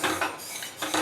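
Sesame seeds are stirred while roasting in a pan over a medium gas flame, heard as close, rhythmic scraping and rasping strokes of a spoon across the pan, about three strokes in quick succession.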